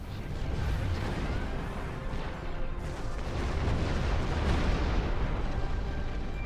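Rear cannons of a ship blasting away in a space combat game, a continuous barrage of muffled booms and rumbling fire layered over a dense low roar, with no voices present.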